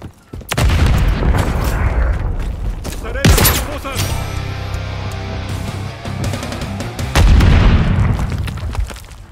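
A grenade goes off in Call of Duty Modern Warfare III amid near-constant heavy gunfire, with a sharp booming blast standing out from the rolling battle noise and a further loud burst later.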